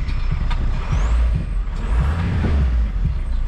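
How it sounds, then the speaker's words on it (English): Turbo diesel engine of a junkyard VW MK4 TDI wagon with a tensioner near failure, giving a steady low rumble with light throttle blips and faint turbo whistle, close by and with no talking. "listen to the turbo, like barely tapping it. That sounds so cool."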